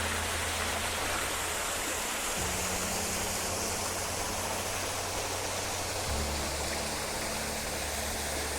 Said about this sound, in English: So there's the secret waterfall.